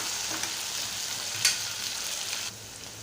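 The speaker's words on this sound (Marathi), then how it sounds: "मी इथे पाव चमचा मीठ घालत आहे आणि असं परतून देत आहे" A soft, steady sizzle from a pan of bharangi greens with salt, with a brief scrape of stirring partway through, then the frying quiets slightly.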